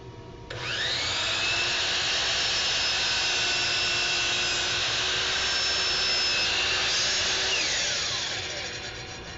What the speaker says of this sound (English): you'll have to pull the saw out just a little bit before you start cutting